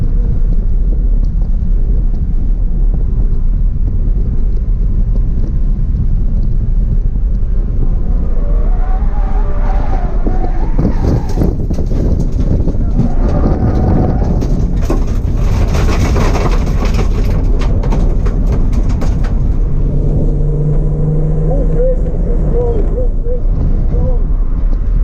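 Touring race cars at Snetterton circuit, including the Wolf Motorsport 26 car, pass in a close convoy, engines droning loudly and continuously under steady commentary, with a louder surge mid-clip.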